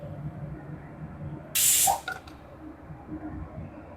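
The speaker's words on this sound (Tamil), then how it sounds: "இப்போ தாளிக்கிறதுக்கு எண்ணெய் ஊற்றிக்கலாம்." A sudden bright hiss bursts out for about half a second as oil hits a pan for tempering spices, then settles into a low sizzle against kitchen background noise.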